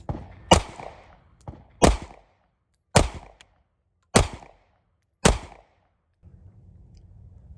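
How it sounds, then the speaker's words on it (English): Five sharp pistol shots from a Sig Sauer P365X, evenly spaced about a second apart, loud and close, with brief ringing tails and a low hum after the last shot. "so just gonna take a couple shots with the 365X"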